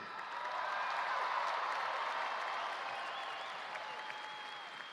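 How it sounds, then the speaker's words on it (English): Graduation commencement crowd cheering and applauding, a dense sustained wash of clapping with scattered whistles and shouts, loud and steady throughout, easing slightly toward the end. "So you're going to have to cheer twice as loud for those grads today."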